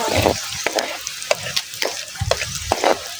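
Oil hits a hot pan while cooking Bicol Express, crackling and sizzling in bursts with repeated stirring scrapes, close and fairly loud with no voices.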